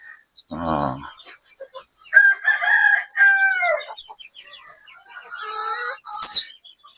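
Chickens and roosters in their coop give a low cluck, then long drawn-out crows and squawks at moderate distance, with quieter clucking and a sharp high cry near the end.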